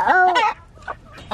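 Chickens on a homestead going after a grub, giving a few short excited clucks and squawks close by, with brief pauses between the bursts.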